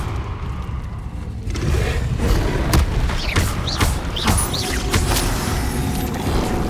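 A blasting spell detonates in the Hogwarts Legacy video game: deep booming explosions thud one after another after a quieter start, with crackling debris and whooshing bursts layered over a loud, heavy rumble.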